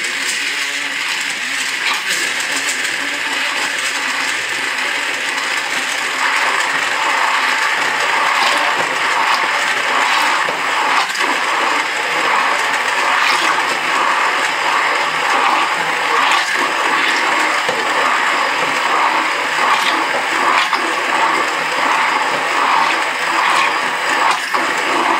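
A kitchen blender whirs steadily, blending avocado and dates with milk for juice, a loud continuous grinding hum with slight fluctuations throughout, no talk.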